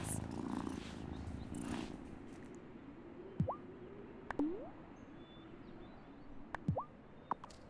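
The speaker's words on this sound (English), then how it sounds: "You still liked that, didn't you, Kitty?" A cat in the video game Wylde Flowers purring while getting head scratches, a soft low continuous rumble with a few brief chirpy sounds over it.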